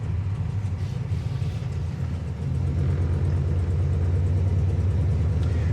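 A 1972 Gran Torino engine idles with its transmission in gear, a steady low rumble that settles into a slightly deeper, fuller drone partway through, close and continuous.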